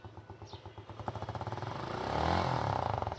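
A Suzuki Gixxer motorcycle engine runs close by, a rhythmic thumping idle that swells into a louder, faster revving surge before easing slightly, with no voices over it.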